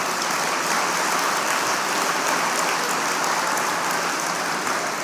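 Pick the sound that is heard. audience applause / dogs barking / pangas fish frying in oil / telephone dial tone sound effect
audience applause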